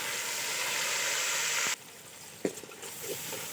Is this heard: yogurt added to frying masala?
yes